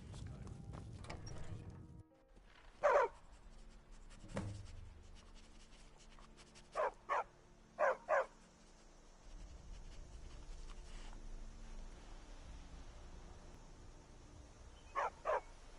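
A dog in the Skyrim video game gives a few short, sharp barks, spaced apart over a quiet background with faint low rumble and no talk.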